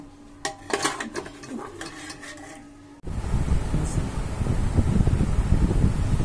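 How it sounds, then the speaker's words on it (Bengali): Spices being ground on a shil-pata stone slab for beef tikka kebab: after a quieter stretch with light clinks, a loud, steady, rough scraping and rubbing starts abruptly and continues to the end. "আমরা শিলপাটায় এটাকে বেটে নিলাম"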